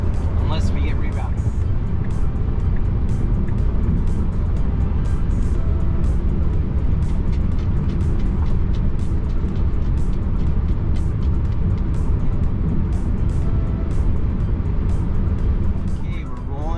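A Tesla Model 3 Highland Performance rolls along the road, heard from inside as a steady loud broadband road and tyre roar with wind noise throughout, and a voice talks over it.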